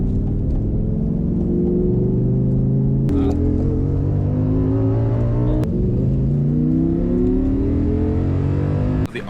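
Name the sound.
Audi R8 supercar engine revving and accelerating on track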